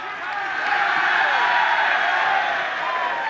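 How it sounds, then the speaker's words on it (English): A rugby match crowd at Cyncoed, Cardiff Met against Loughborough, lets out a brief swelling cheer from the stands, moderately distant and sustained for a few seconds. "And that cheer for the ball out on the full, going back to the 22."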